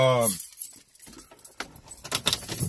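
A ring of keys jangles and clinks in short metallic bursts right after a person talks in a car on a rainy morning, the rattling close by and scattered through the clip.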